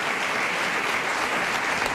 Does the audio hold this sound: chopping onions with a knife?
no